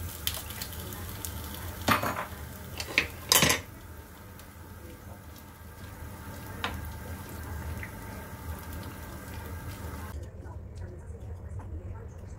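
Vegetables added to a boiling pot in a home kitchen: a few sharp clinks and scrapes of a utensil against the pot, then a soft steady bubbling and sizzling hiss, close and fairly quiet.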